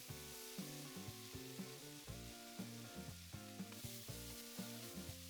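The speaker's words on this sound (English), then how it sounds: "cooking nice and even, getting that smoke on all of our veggies and meat" Beef lo mein stir-fries in a wok with a steady, quiet hiss of sizzling that runs under prominent background music, without any talk.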